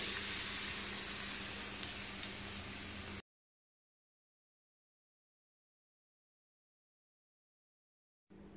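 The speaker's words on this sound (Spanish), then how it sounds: "lo enharinamos lo pasamos por la mezcla y lo ponemos en nuestro aceite" Floured, battered fish fries in hot oil for fish tacos, a steady close sizzle lasting about three seconds before cutting to silence, with a brief return at the end.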